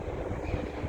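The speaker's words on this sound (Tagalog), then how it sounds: "Mahangin na." Wind blows steadily around a walkway near Tung Chung Crescent, a faint, continuous low rushing and buffeting with no voices.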